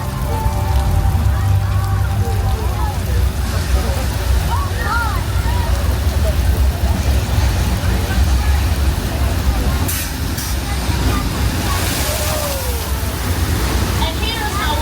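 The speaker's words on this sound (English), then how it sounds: "The flash flood." Heavy rain pours in a steady, loud rush of water, like a downpour flooding over surfaces, with a voice speaking faintly underneath; a flash-flood weather effect.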